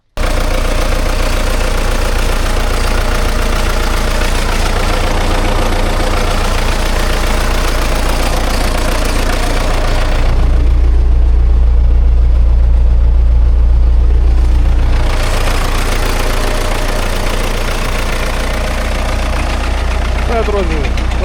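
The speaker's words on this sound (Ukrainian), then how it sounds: "змішуємо, заводимо трактор, перемішуємо це все" A tractor engine running while fertilizer for winter wheat is mixed, a loud, steady low rumble throughout that swells and deepens for several seconds midway.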